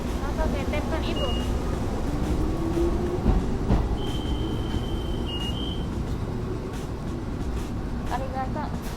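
Commuter train (densha) in Japan heard from inside a car, a continuous loud rumble of wheels and carriage with rattling, a short electronic tone partway through, and faint voices underneath.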